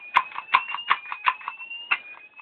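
During a system test, a Gent smoke detector alarm sounds as a pulsing electronic tone. It chirps in quick regular beats at close range with no talk.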